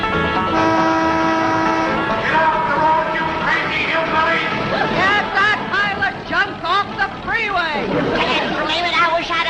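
Car horns honk at an old truck on a road in a 1960s sitcom scene, with several toots and a sustained blare over chatter and voices, fairly loud and close.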